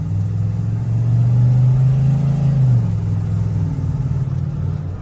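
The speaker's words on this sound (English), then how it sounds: "You can hear how strong that motor is right now." A 1991 Ford F150 Lariat pickup engine hums and revs up, pitch rising then dropping as it shifts gears, then settles into a steady cruising drone.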